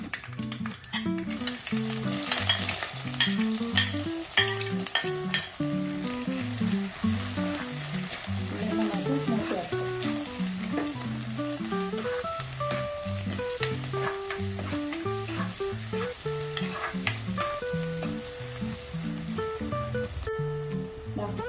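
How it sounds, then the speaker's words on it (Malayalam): Steady oily sizzling of onions frying in coconut oil with mustard seeds for fish curry, with occasional stirring, partly masked by a prominent melodic music track playing throughout. "നമ്മുടെ ഉള്ളി ഏകദേശം മൂത്ത് തുടങ്ങിയിട്ടുണ്ട്"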